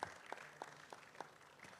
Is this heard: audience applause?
yes